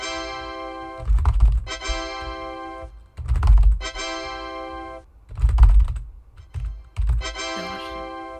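Short flurries of typing on a membrane computer keyboard come in four separate bursts, close and distinct, alternating with steady musical tones between them.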